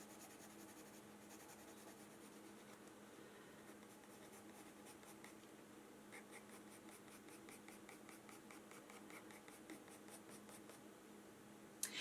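A 6B graphite pencil draws on paper, making quiet, soft scratching strokes that repeat in a steady rhythm, close but faint, with no talking.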